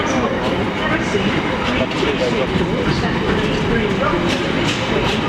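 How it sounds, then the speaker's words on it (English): A train running between London and Brighton gives a steady, close rumbling roar with faint rhythmic clatter that holds evenly throughout. "This train is currently between London and Brighton"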